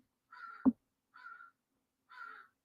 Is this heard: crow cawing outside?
yes